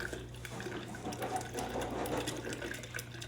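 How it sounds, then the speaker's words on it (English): A spoon stirs instant coffee into an iced coffee drink, giving a steady, soft swirling and rattling churn of liquid, close and low, with no talking. "And I'm just stirring that up so I get it all blended."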